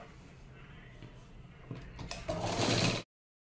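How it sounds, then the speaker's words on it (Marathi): Sewing machine stitching the lining of a katori blouse, a steady mechanical whir that builds louder toward the end before stopping abruptly. "त्यानंतर जो अस्तरचा भाग आहे त्याच्यावरती आपल्याला शिलाई मारायची आहे, म्हणजे दाबटीप."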